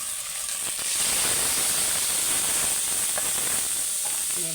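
A spice paste of cumin and coriander powder hits hot oil with a sudden loud sizzling hiss that settles into a steady, intense frying roar, heard up close.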